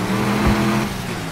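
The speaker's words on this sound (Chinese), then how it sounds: "我车子怠速，这是手牌的车子怠速，怠速竟然转速有到2500转" A broken vehicle engine in the Project Reality video game idles high, around 2500 rpm, with a suspected blown gearbox. It gives a steady, close droning hum with a low harmonic whine throughout, and no voices are heard.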